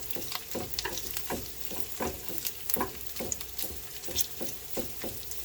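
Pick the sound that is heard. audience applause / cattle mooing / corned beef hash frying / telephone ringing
corned beef hash frying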